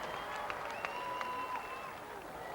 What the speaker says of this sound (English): And then again getting a good applause from this Cougar crowd.